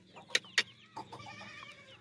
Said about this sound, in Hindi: इंतहाई 2 दांत सस्ता बकरा है कुर्बानी के लिए